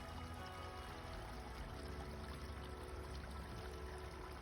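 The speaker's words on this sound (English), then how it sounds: "Little waterfall," Continuous rushing water, a soft steady splash and hiss of a small waterfall, fairly faint and unbroken.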